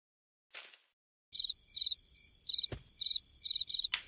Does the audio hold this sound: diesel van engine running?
no